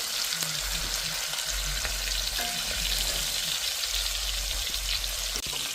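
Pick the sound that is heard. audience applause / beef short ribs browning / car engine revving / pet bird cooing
beef short ribs browning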